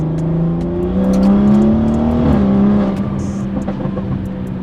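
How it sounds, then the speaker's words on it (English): A BMW F30 with a B58 engine and MST Performance intake pulls hard, its loud induction drone rising steadily in pitch, dipping at a shift and continuing on, heard close from inside the car. "There's a whole lot of induction noise going on."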